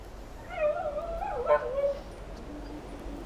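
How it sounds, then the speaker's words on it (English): Neighbouring dogs give a wavering, whining howl at middle distance, rising and falling for a couple of seconds before fading into a faint lower whine. "they have like crazy dogs. They're barking all the time."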